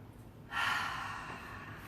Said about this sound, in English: Give yourself 3 deep breaths.